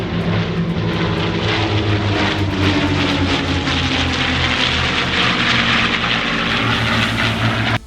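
Aerobatic propeller airplanes at an airshow making low passes and landing, a loud continuous engine drone that swells and shifts in pitch as they fly by, with no voices.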